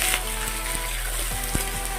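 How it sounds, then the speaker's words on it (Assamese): Chopped young jackfruit fries with onions and green chillies in a kadai, giving a close sizzling hiss broken by scattered clicks and scrapes of stirring, all within a couple of seconds. "পিঁয়াজ ভাজা হোৱাৰ লগে লগে আমাৰ কঁঠালৰ মুচি কেৰাহীত ঢালি দিলে।"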